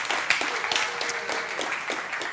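Brief burst of audience applause for a volunteer at a lunch-and-learn talk, steady dense clapping from a modest crowd lasting a couple of seconds.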